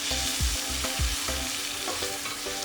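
Tomato, turmeric, red chilli powder and garam masala are sautéed in oil for matki pulav. A loud steady sizzle runs under repeated scraping stirs of a spoon against the pan, with no voices.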